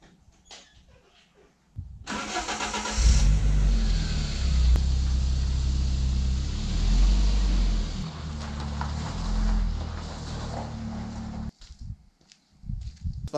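A BMW E30 left unused for about a month cranks briefly, then its engine catches with a loud roar and settles into a steady, rumbling idle that runs for several seconds before cutting out, followed by faint handling noises.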